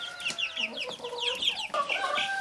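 Young silkie chicks peep in a constant, overlapping chorus of high, rapid chirps, close and lively, with no speech heard.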